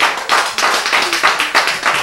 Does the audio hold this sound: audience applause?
yes